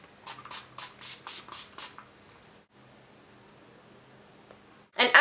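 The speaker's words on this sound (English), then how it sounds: "I'm going to take my Mary Kay Makeup Finishing Spray." Mary Kay makeup finishing spray is misted toward the face from a distance, a run of about six short, airy pump sprays in quick succession, followed by quiet and a louder bump near the end.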